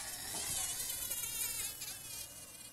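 Buzzing of a bee in the Minecraft video game, a steady, close insect drone with wavering pitch running the whole time with no talk over it.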